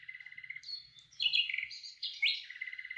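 A sparrow chirps in bright, repeated tweets while carrying grass from a broom to its nest, the calls rising and falling in quick bursts close by with no other sounds.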